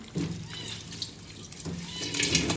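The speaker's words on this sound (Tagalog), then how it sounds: "Tubig." Water splashes and trickles as it is poured into a pot of paksiw fish with bitter gourd, eggplant, chili and vinegar, close by, in short uneven bursts.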